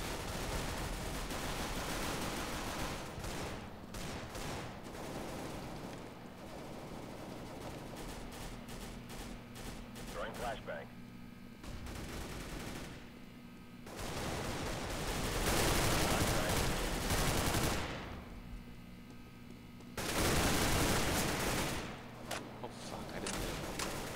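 Bursts of automatic gunfire ring out in a round of the video game CS:GO, loud clustered volleys separated by short lulls, some shots sharp and near, with heavier blasts toward the end.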